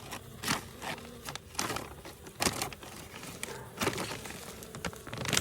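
Honey bees buzz faintly while being carried back to their hive in winter, a soft insect hum with scattered crinkling and rustling sounds close by.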